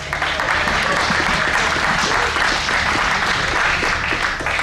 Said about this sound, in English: Ladies and gents, give it up for MMA.